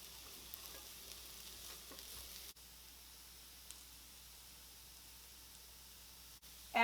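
Shredded garlic and sliced purple onion sizzle in a pan with potatoes as they are stirred in, a soft, steady frying hiss with a few faint scrapes, then a louder clatter at the end.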